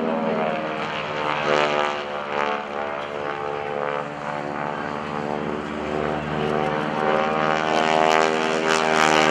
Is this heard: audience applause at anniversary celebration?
no